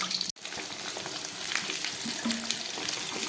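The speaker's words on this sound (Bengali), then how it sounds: "তেলটা গরম হয়ে গেছে, আমি আলু আর পেঁপেগুলোকে খুব ভালো করে ভেজে নিচ্ছি।" Potatoes and papaya fry in hot oil in a wok, giving a dense, steady sizzle and crackle close up, with one abrupt brief cut near the start and no voices.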